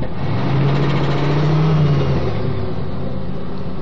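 An old car with a smoky 307 engine runs in a loud, close, steady idle, a low rumble holding a hum that rises slightly in the middle then settles.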